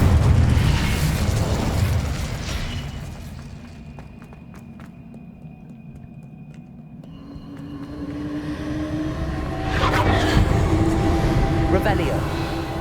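A fire spell, Incendio, cast in Hogwarts Legacy gives a broad roaring burst that swells near the end after a quieter stretch, with a voice heard over the game sounds.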